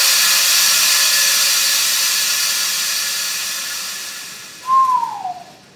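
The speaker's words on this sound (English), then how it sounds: "With both of these, I can now pump 30 cubic feet of air per second into the tube at 150 miles an hour." Twin air blowers push air into a long tube with a loud, steady rushing hiss that slowly fades, followed near the end by a brief rising-then-falling whistle.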